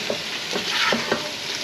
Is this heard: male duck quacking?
no